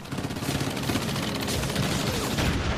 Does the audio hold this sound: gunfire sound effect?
yes